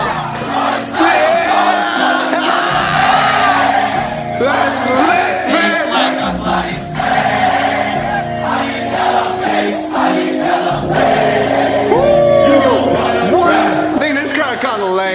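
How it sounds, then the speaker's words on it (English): A loud rap concert crowd roars, cheers and shouts over heavy pounding music as the beat drops, a dense continuous wall of voices near and far. "I can't wait to see this crowd go off."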